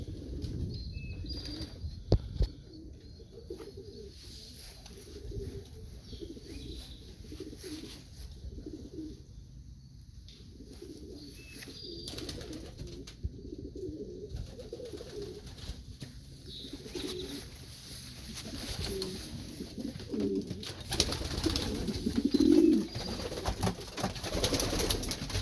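Flock of racing pigeons from a loft during a morning toss, soft cooing and wing flapping heard faintly over outdoor ambience, growing busier toward the end.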